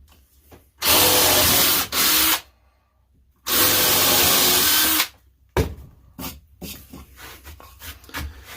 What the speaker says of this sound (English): So I'm just going to drill holes, and I use about that size bit.